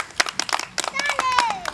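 A few scattered claps from children at a Republic Day gathering, brief and uneven, mixed with chatter and a whistling tone.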